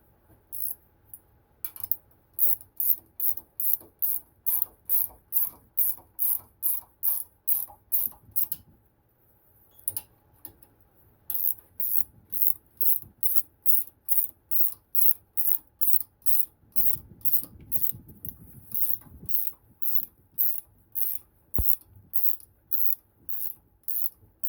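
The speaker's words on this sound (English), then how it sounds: "And then we'll use a ratchet wrench." A ratchet wrench snugs nuts onto a Dana 44 axle in a series of quick, close, regular clicking strokes, the run pausing briefly around the middle before the steady clicking resumes to the end.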